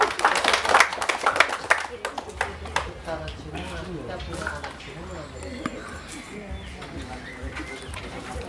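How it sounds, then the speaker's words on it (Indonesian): An audience bursts into clapping for a child who has just finished reading at a children's scripture-reading contest held between church community groups. The applause is brisk and dense for about two seconds, then thins out and gives way to talking. "Berikan tepuk tangan yang luar biasa"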